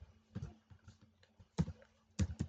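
Keys on a computer keyboard clack quietly in short bursts while code is typed, scattered clusters of crisp taps with brief pauses between them, close and faint.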